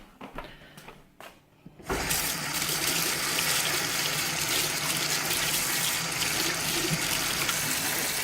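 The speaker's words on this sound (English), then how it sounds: "I'm just going to wash my hands." A kitchen tap is turned on for handwashing, a steady rushing stream of water pouring into a sink after a couple of seconds of quieter handling, continuing close and loud to the end.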